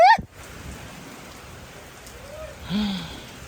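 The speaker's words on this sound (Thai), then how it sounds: "โหเนาะฝนเนาะ" Rain falling steadily over a rice field during harvesting, a soft continuous wash with a few faint tones and brief louder moments.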